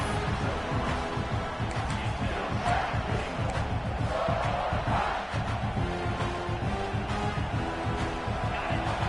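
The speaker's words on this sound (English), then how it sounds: "And the crowd coming to life here," A college football stadium crowd at a Texas game, cheering near the goal line in a sustained, dense roar of many voices with scattered shouts, distant and steady throughout, with no clear speech.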